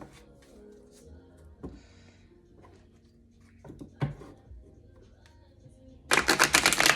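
A deck of cards is riffle-shuffled close by at the end, a quick, loud burst of rapid flutters after several seconds of quiet handling sounds and soft taps.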